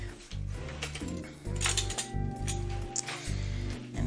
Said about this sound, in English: And we're just going to stir this up.